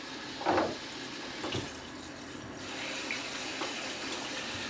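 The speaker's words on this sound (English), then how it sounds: "we're gonna come back here to the sink and throw in some water" Tap water runs into a kitchen sink to fill a wet tumbler for cleaning range brass, a faint steady stream with a brief louder splash near the start.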